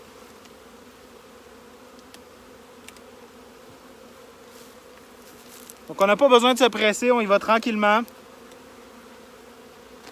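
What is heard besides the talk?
honeybees buzzing while installing a nucleus hive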